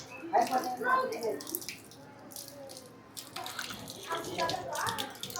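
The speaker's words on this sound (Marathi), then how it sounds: "इकडे पाय धुवायचे, पाणी प्यायचं आहे" Running tap water splashes over feet at a temple washing spot, an uneven close gush and patter heard while people talk throughout.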